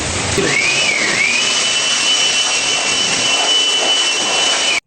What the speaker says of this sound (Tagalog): siyempre, ang pipindutin mo ang power blower.